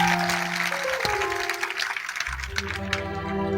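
A church congregation at a new church inauguration in Idupulapadu claps together in a dense, sustained burst, with scattered sharp claps standing out and faint voices beneath.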